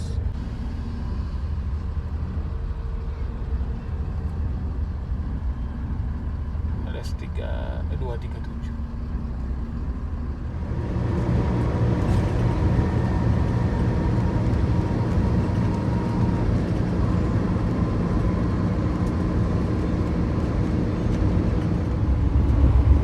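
Inside a moving sleeper-class coach bus, a low engine drone and road rumble run continuously and grow louder midway as the bus gets under way, with people talking over it.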